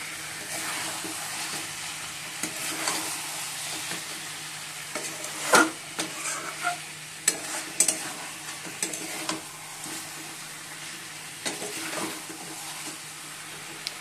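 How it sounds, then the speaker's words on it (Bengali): Chicken pieces sautéing in a hot pan, with a steady close sizzle broken by scattered scraping clacks from a spatula stirring the meat, and no talking. "এবার কষানো হচ্ছে চিকেনটা আর এদিকে আলুগুলো ভেজে নিয়েছি"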